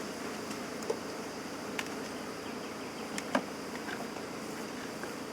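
Honey bees hum steadily around an open hive during honey robbing, a dense, even insect drone close by with a few faint clicks and bumps over it and no talk.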